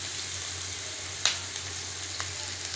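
Onions fry in a pan of oil for chilli parotta, giving a steady close sizzle with one sharp clink of a utensil midway and a few faint taps after.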